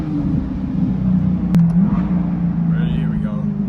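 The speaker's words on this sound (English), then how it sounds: "I hope you guys can hear the burbles well on this course." A steady low car engine rumble with crackling exhaust burbles throughout, fairly loud and close, with a brief sharp pop partway through.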